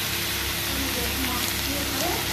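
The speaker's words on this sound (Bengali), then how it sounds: "এবার আমি ডুমুরটা এর মধ্যে দিয়ে নেব, মশলার সঙ্গে খুব ভালো করে কষিয়ে নেব।" Figs (dumur) stirred and fried with spices and potatoes in a pan, a dense, steady sizzle that stays loud and close throughout.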